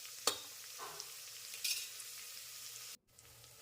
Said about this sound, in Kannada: ಇವನ್ನ ಎಣ್ಣೆಯಲ್ಲಿ ಹುರ್ಕೋಬೇಕು ಚೆನ್ನಾಗಿ. ಈರುಳ್ಳಿ ಸಾಫ್ಟ್ ಆಗೋ ತನಕ ಹುರ್ಕೋಬೇಕು.